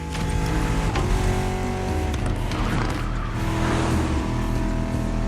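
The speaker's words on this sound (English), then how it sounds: "Drifting is the best way to take sharp turns without losing speed." A car in The Crew Motorfest video game drifting along a winding mountain road, its engine revving loud and close with squealing tires as it slides through the turns.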